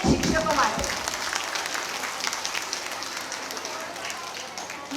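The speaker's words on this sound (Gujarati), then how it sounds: "તો એક જોરદાર તાળીઓ અહીં હાજર દરેક શિક્ષકો માટે." Audience applause for teachers at a school's seventh-anniversary celebration, a dense steady patter of many hands clapping throughout, with faint voices mixed in at the start.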